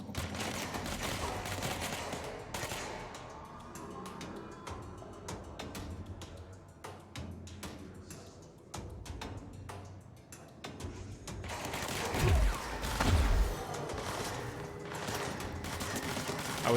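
Automatic gunfire sounds in the video game Control: rapid bursts of shots, then a quieter stretch of sparse clicks and single reports, then a heavier closing burst. No one speaks.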